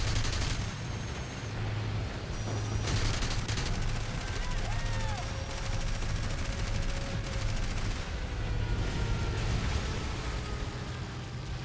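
In War Thunder, an aircraft's cannons and machine guns fire in sustained rapid bursts over a constant engine drone, the dense gunfire continuing nearly unbroken throughout.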